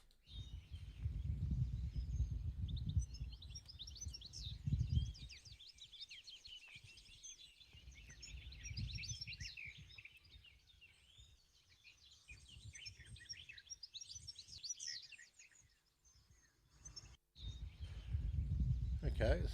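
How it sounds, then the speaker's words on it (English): UK farmland birdsong from willow warblers, garden warblers, a chiffchaff and goldfinches: quick, thin trilling phrases overlapping at a moderate distance, with low rumbling handling noise at the start and end. "Willow warblers, garden warblers, chiff-chaff, goldfinches."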